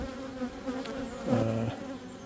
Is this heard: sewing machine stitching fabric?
no